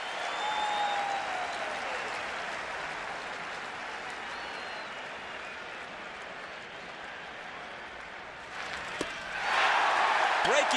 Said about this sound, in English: And the crowd reacts to it.